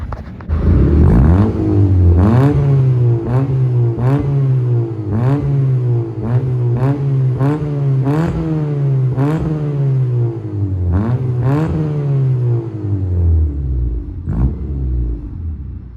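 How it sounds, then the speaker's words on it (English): A Honda Civic EK sedan's new exhaust revs repeatedly, each throttle blip rising and falling over a steady low rumble, loud and close, with no talking. "let me put some exhaust clips real quick"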